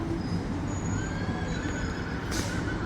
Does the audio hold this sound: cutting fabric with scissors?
no